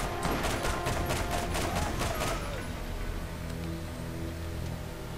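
Rapid automatic gunfire from a machine gun in the video game Borderlands, a dense burst of loud shots for about two seconds that gives way to a busy hum of game effects.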